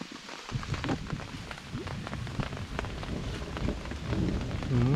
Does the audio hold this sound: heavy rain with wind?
yes